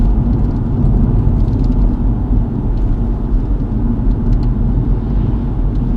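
A car engine holds a steady, loud rumble in third gear, building while pulling out to overtake a Volvo on a winding Scottish road, continuous and close with no talk.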